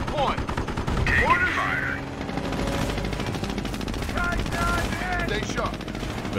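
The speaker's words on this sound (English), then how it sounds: "Enemy infantry fire!" Gunfire in the WWII strategy game Company of Heroes, Normandy campaign at St. Lo: steady rattling machine-gun and rifle fire in the distance with battle noise, under radio-style unit voices.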